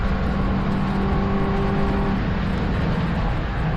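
A Mazda Miata race car at Harris Hill Raceway during an endurance race, its engine droning steadily and loud throughout with a sustained tone that shifts pitch midway, no talk over it.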